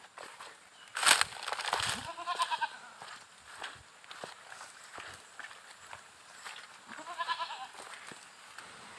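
Goats bleat in a wet, watery farmyard. A few loud, wavering calls stand out at intervals against faint background noise and scattered knocks, with one sharp burst of sound early on.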